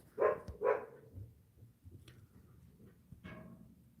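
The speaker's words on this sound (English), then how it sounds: "Sorry about the background noise of my dog." A dog barks twice in quick succession close by, then gives one fainter bark a few seconds later against quiet room noise.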